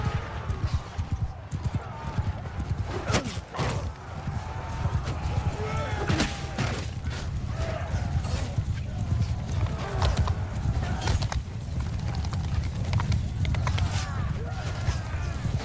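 Hooves clop rapidly and continuously from several horses in a Mount & Blade II: Bannerlord battle, with sharp bangs and clashes scattered throughout and people talking over the busy battle noise.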